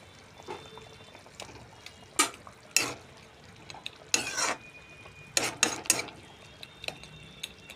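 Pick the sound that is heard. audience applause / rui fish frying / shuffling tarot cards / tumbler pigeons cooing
rui fish frying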